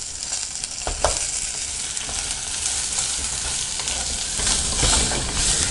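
Dried red chillies and coconut sauté in a pan for a brinjal and mochai tamarind kuzhambu, a close, steady sizzle with scraping stir strokes and a louder surge near the end, no voices.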